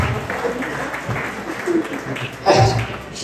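An audience at a football club presentation evening applauds a regional federation president, a moderate steady patter of clapping mixed with a few voices, swelling briefly louder near the end.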